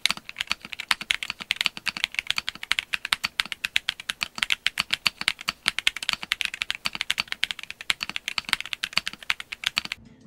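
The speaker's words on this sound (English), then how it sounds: "I provide a stock sound test." Steady, brisk typing on a stock Monsgeek M1W mechanical keyboard, with dense, crisp keystroke clicks and taps in an uneven but continuous rhythm, close and clear, with no voices.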